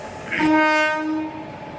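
The Venkatadri Express's horn blares loudly with a steady harmonic tone for about a second, rising over rumbling railway noise as the train gets underway.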